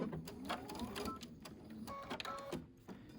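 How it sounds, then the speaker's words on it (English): A sewing machine runs a 1/4 inch seam with stitch length set around 2, making a busy mechanical whir with short start-stop bursts and a brief back tack, fairly close and steady throughout. "I'm going to sew down here so you can see"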